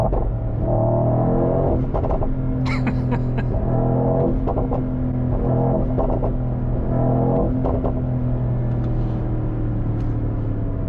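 A 2025 Mercedes-AMG GT 63 coupe with its twin-turbo V8 accelerating hard from inside the cabin, engine note rising in pitch through repeated gear pulls, loud and close with no talk.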